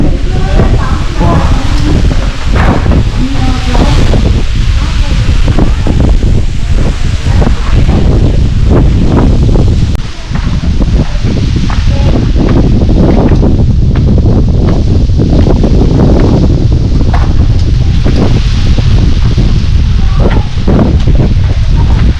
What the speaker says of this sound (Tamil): காற்று செம்மையாக இருக்கு.